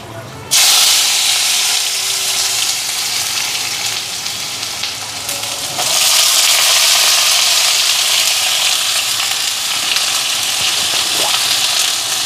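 Nigella seeds hit hot oil in a home kitchen and set off a loud, steady sizzle that continues unbroken and swells again partway through.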